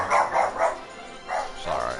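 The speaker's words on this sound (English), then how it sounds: "Dogs are going insane." Several dogs bark insistently nearby, a rapid burst of three barks followed by two more after a short pause, fairly loud with no talking over them.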